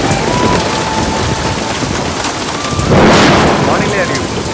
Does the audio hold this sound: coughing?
no